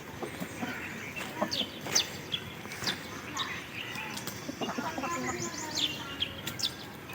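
Aseel (Lasani) breed chickens, a breeder pair, give scattered chirps and clucks at moderate distance amid faint ambient noise, with someone talking intermittently.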